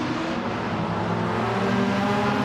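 A race car in a classic DTM touring-car sim racing league drives past, its engine a loud, steady, close drone with a slight rise toward the end, heard alone without talk.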